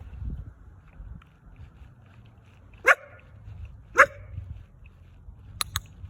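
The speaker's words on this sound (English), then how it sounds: "usually people say don't let the dog bark" A dog barks sharply and fairly close, with single barks spaced about a second apart followed by a quick double bark, over a quiet background with no talking.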